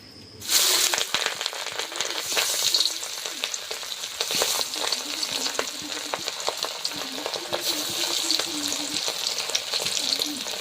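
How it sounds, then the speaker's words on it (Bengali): Fish fries in hot oil with a loud, steady sizzle that starts abruptly and crackles on, joined by occasional stirring clatter. "এবার মাছগুলো আস্তে আস্তে তেলে দিয়ে দেবো দিয়ে ভেজে নেব"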